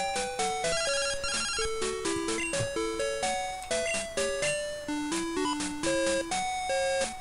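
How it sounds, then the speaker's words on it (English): Chiptune phone call jingle from the Pokemon Crystal video game, a bright, steady run of stepping electronic beeps and tones that goes on without pause and has no voices over it. "Alright, we're going to phone Professor Elm right now."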